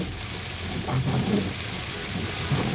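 Steady rain pours down continuously in a broad, even hiss, fairly loud and close, with a low rumbling undertone and no voices.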